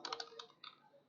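Quick, faint keystrokes on a computer keyboard, a short burst of about half a dozen clicks while typing a practice document in MS Word, close and quiet with no voices.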